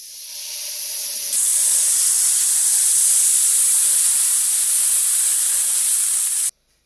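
Butter sizzling on a hot griddle plate, a loud steady close hiss that builds in the first second, holds evenly, then cuts off abruptly.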